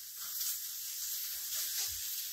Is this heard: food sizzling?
yes